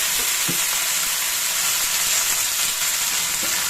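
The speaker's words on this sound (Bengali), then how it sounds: "এখানে মূল শাক কুচিয়েছি সর্ষে শুকনো লঙ্কা ফোড়ন দিয়েছি" Chopped radish greens frying in hot oil with mustard seeds and dried red chillies make a loud, continuous, close-up sizzle with a few soft stirring knocks underneath.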